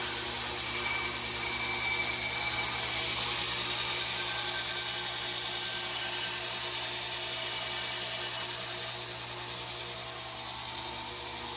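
A belt grinder works knife steel, the abrasive belt giving a steady, loud, hissing whine that holds unbroken throughout, with no talking.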